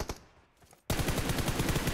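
Gunfire in the video game PUBG Mobile: a couple of early shots, a brief lull, then a sustained loud burst of rapid automatic fire.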